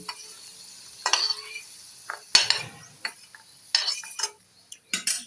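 A metal spoon scrapes and clinks against a pan in several short bursts as fried potatoes are lifted from oil, with faint sizzling between them.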